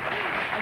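Studio audience applause for a singer's twentieth birthday during a 1997 TV interview, a short steady burst of clapping with a faint voice mixed in.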